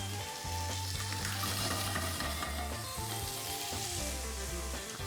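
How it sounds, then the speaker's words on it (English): Shrimp sizzling steadily in hot olive oil in a pan, a continuous loud frying crackle with no voices over it. "So I'm gonna get those shrimp in there."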